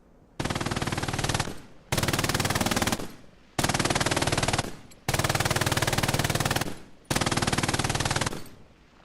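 An MG fires in long, loud sustained bursts in Hell Let Loose, a console World War II shooter, shooting from inside a church; five bursts are separated by brief pauses.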